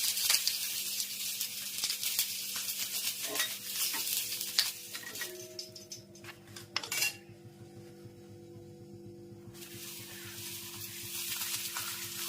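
Chilies frying in oil for a Kathiawadi meal, a steady close sizzle with crackles and a metal utensil clinking against the pan, then the hiss drops away to a quieter low hum before faint frying returns.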